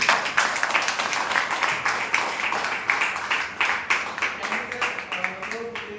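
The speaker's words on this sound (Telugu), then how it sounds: "ఒకసారి మన డి సార్ గారికి గట్టిగా క్లాప్ చేయండి" Audience clapping for a speaker at a Vestige business meeting: a steady run of claps, fairly close, with some voices heard beneath it.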